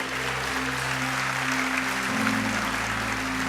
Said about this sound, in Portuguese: Quem pode aplaudir o Senhor por isso?